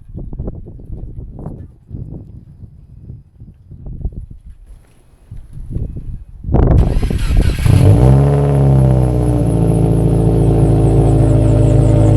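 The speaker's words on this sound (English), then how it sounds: "I'm gonna go start the car" Subaru WRX engine cranks and catches, then revs and settles into a loud, steady idle close by; quieter handling noises come before the start.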